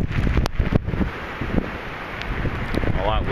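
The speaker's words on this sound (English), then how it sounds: "here I am at 7:50 p.m. and it is a lot windier" Strong gusting wind of Hurricane Sandy buffets the microphone outdoors at night, a loud roaring rush with rustling and rain, while someone talks over it.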